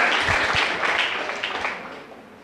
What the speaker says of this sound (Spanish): denle un aplauso al Rey bendito.